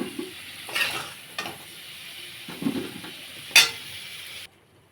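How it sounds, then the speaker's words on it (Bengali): Potatoes fry in a pan of oil for a vegetarian ash gourd and fritter dish. Soft sizzling runs under several stirring scrapes, with one sharp utensil clink near the end before the sound cuts off. "আলুগুলো খুব ভালো করে ভাজা হয়ে গেছে,"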